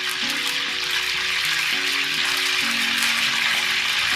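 Chicken pakora pieces fry in hot oil for a Pakistani-style crispy recipe, giving a steady, close, dense sizzle and bubbling that holds loud and unbroken from start to finish with no voices.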